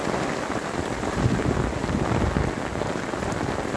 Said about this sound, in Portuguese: E aí, chuva! É chuva, ué!